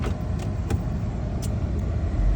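A truck engine runs rough at idle, a continuous low rumble with uneven pulsing and a few faint higher knocks and clicks, nearby, with no talking.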